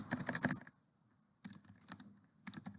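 Keystrokes on a computer keyboard come in two quick bursts of typing, split by a short pause and then a closing flurry. The keys sound close and clear, with no talking.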